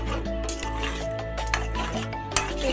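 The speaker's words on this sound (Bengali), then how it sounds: "এবার একটুখানি নাড়িয়ে চাড়িয়ে নেব" A spoon stirs a vegetarian potato dish in a cooking pot, scraping steadily with a few sharp metallic clinks against the pot's side. It is close and moderately loud, with no talking.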